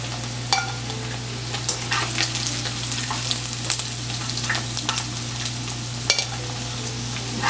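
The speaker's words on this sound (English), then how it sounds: "I will fry this until it is golden brown and crispy" Chicken pieces frying in hot oil for chilly chicken, a steady close sizzle with a low hum and scattered crackles and pops throughout.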